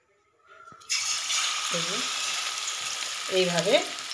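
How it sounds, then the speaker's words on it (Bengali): Batter-coated coriander-leaf pakoras drop into hot oil, and after a moment of quiet a loud, dense frying hiss bursts up and holds steady, close by, with a couple of brief tonal squeaks over it. "এটাকে এবার ভালো করে ভেজে নেব উল্টে পাল্টে"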